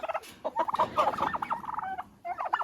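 Turkeys in a poultry house gobble in rapid, overlapping bursts, close and loud, with a brief pause before another round of gobbling.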